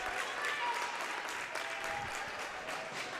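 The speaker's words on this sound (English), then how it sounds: "fans making some noise, as is Haverford, applauding their team's effort" Steady applause from a high school hockey crowd at a Class AA semifinal game, a continuous wash of clapping that holds at an even level throughout, with some crowd noise mixed in.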